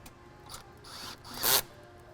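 Ratchet spinning aftermarket aFe differential cover bolts down on a Jeep Wrangler JL, a close, quiet run of mechanical ticking and rubbing that swells into a brief louder burst near the end.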